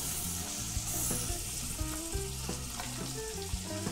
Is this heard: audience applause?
no